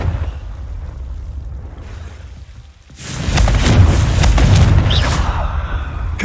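A Confringo fire spell explodes in Hogwarts Legacy, a sudden loud boom after a brief quiet, followed by a rumbling crackle that slowly decays.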